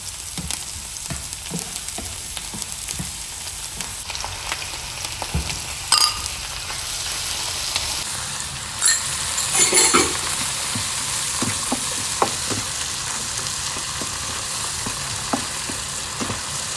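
Coconut oil frying in a pan while vegetable greens and shrimp are cooked, giving a steady, close, loud sizzle throughout, with occasional stirring clatters and brief spatters over the continuous hiss.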